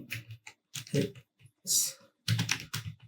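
Typing on a computer keyboard to enter text into an Excel sheet comes through as close, irregular bursts of key clicks separated by short pauses.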